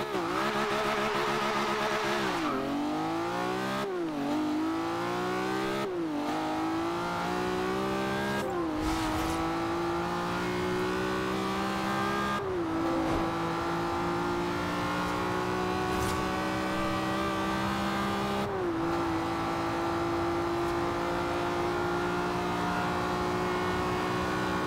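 A 1969 Toyota 2000GT converted to a 725-horsepower 3.6-litre inline-six, driven in Forza Horizon 2, revs hard and climbs through the gears with steady rising engine tones that dip briefly at each of several quick upshifts, loud and close throughout.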